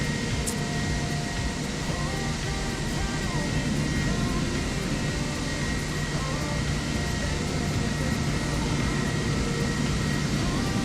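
Airliner taking off in Microsoft Flight Simulator 2024, a steady, loud engine roar and whine holding constant throughout with faint talk underneath.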